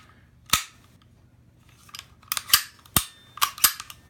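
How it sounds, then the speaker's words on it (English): A SIG P320 pistol's slide is worked and locked back, giving a series of sharp, close metallic clacks and clicks at irregular intervals, loud against a quiet background. "Lock the slide back."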